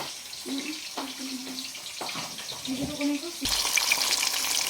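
Steady crackling sizzle of food frying in a pan, with brief tonal clinks and stirring sounds; the sizzle grows louder and brighter near the end.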